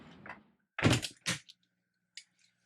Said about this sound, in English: gently close the door, and you are secure